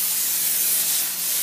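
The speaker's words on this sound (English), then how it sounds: "we're going to spray the pan" Cooking oil spray bursts from a can into a pan with a steady, close hiss that holds evenly for a second or so before easing off briefly.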